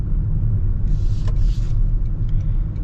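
A 2026 Toyota Crown Nightshade hybrid accelerating hard in sport mode, a steady low road rumble and drivetrain drone from inside the cabin with a brief whooshing hiss midway, no talk.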